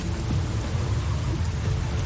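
Heavy rain and a rumbling thunderstorm in The Witcher 3 video game, a dense continuous downpour with deep low thunder rolling underneath, loud and unbroken.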